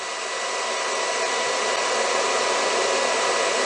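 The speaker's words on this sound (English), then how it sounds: "Now I can restart the motor." A steady, even electric motor under PLC control whirs continuously at constant pitch, close and fairly loud, with no voices.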